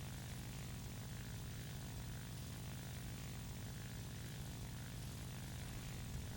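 Propeller drone of a Focke-Wulf Fw 190 A-4 fighter engine in War Thunder, a dense, steady, loud low roar that holds constant throughout with no voices.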